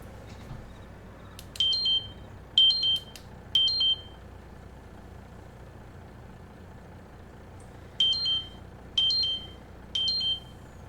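Electronic beeping from the video game Farming Simulator 22, heard as two clusters of three short bright beeps each, separated by a quiet gap, over a low steady background hum with no talking.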